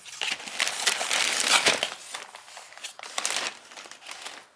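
A delivered package being unwrapped in the morning, with close, busy crinkling and crumpling of plastic or paper packing in bursts, fairly loud and with no talking.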